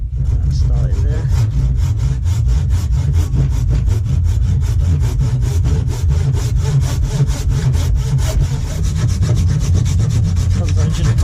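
A handsaw cutting timber close for a compost toilet frame, steady rapid back-and-forth strokes rasping through wood in an even rhythm, loud and close with no pauses.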